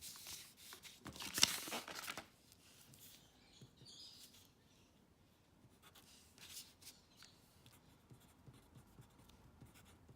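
Pen scratching across paper while writing out a geometry proof, soft close strokes with a brief louder burst early on, then quieter intermittent scribbling with no talking.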